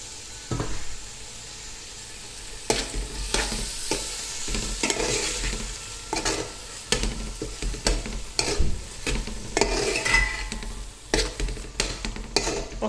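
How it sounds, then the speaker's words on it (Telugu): Chopped mushrooms go into softened tomatoes in a pan for a mushroom pulao, and a constant frying sizzle runs under repeated scraping and stirring strokes of a spoon, close and clear, with no talking. "మనం ఇందులో ఇప్పుడు కట్ చేసుకున్న మష్రూమ్స్ వేసేసానండి."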